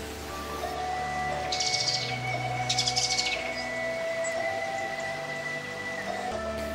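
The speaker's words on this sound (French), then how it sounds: "les mélodies des oiseaux enchantent les participants" Birds chirp and call at a bird festival on the Baie de Somme, bright short bursts of song rising over steady outdoor background noise, moderately near and alone without talk.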